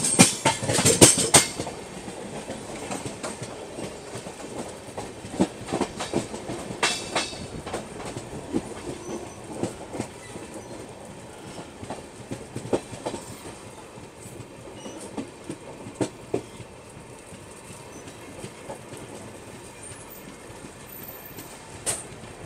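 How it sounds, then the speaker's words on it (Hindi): Rajdhani Express train rolling slowly through Barsoi Junction, heard from inside with rhythmic clickety-clack of wheels over rail joints, louder clunks early on, and a steady low rumble throughout. "तो अभी हम लोगों की ट्रेन स्किप कर रही है काफ़ी स्लो स्पीड में बरसोई जंक्शन रेलवे स्टेशन को"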